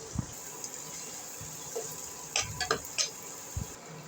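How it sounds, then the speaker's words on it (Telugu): Ginger, garlic, tomato purée and spices frying in a pan for a fish curry, with a faint steady sizzle and a few close clinks and scrapes of stirring, no voices. "అల్లం తెల్లగడ్డలు వేగిపోయినాయి."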